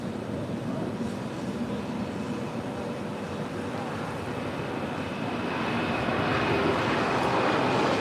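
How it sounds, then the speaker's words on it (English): A Mosaic Air Cargo Boeing 767 rolls for takeoff at LAX, heard from a distance as a broad steady engine roar that slowly swells louder toward the end. "Moss Air 767 now rolling."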